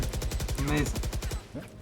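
Gunfire in the video game Valorant, a fast, evenly spaced burst of automatic shots, loud and close, that stops near the end, with a voice talking over it.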